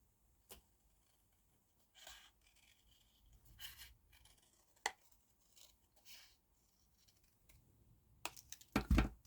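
Scissors snip through a piece of card for a papercraft snowy mound, making a few short, close, sparse cuts with quiet pauses and small handling noises between them.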